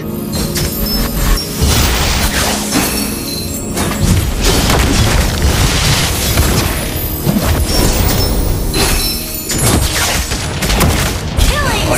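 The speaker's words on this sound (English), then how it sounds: "You destroyed a turret!" Turret destroyed in Mobile Legends, a loud, dense burst of booming explosion and crashing debris that fills the whole stretch, with game effects and voice lines layered over it.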